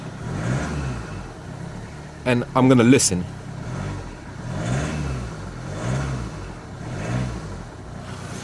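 A car engine revs repeatedly in slow, regular swells, each rise and fall of the motor coming every second or so, close by, with a brief spoken phrase cutting in partway through.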